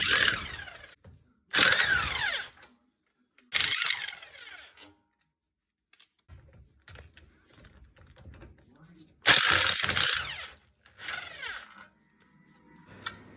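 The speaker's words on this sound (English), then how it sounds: "you need a 6mm hex socket to remove the 4 fastening bolts for the backing plate" A ratchet with a 6mm hex socket works loose the fastening bolts of a rear suspension backing plate on a Rover 75/MG ZT, heard as several short, loud, close bursts of mechanical clicking separated by quiet pauses.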